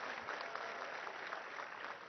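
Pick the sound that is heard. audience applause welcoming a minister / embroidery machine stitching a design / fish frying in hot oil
audience applause welcoming a minister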